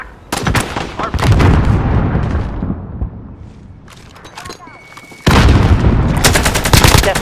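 Rapid bursts of automatic gunfire and heavy booms from a military shooter video game, loud and dense, pausing briefly midway before another intense volley erupts; no voices are audible.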